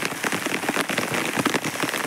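Heavy rain pours down steadily outdoors, a dense, continuous hiss of drops hitting surfaces with no letup, loud and close throughout.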